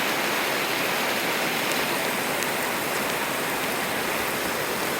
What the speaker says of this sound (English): as we're getting caught in a little rain